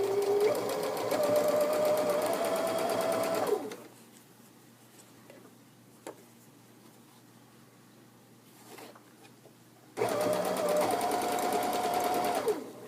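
A sewing machine stitches a welted decorative pillow cover, its steady motor whir running loud and close at the start and again at the end, with a quiet pause between the two runs.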